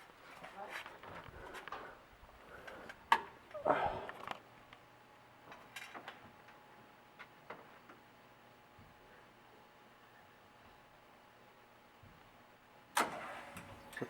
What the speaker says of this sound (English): The pump on. There's the fire on.